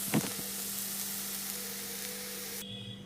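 Okra fry with chili powder sizzles steadily in a pan, a close, continuous crackle that cuts off abruptly near the end as the heat is switched off.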